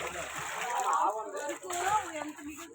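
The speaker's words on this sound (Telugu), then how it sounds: "వాటర్ తోడుతున్నారు వీళ్ళు ముగ్గురు." Water being scooped and splashed by three people preparing a large communal festival meal, with irregular sloshing and splatters mostly buried under steady, close conversation.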